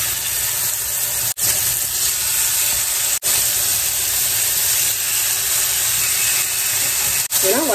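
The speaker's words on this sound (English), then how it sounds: "Okay, you just want to sit them in the skillet." Stuffed cheeseburger patties (Juicy Lucy) sizzle steadily in a skillet. A loud, continuous frying hiss fills the whole stretch, broken by a few brief dropouts.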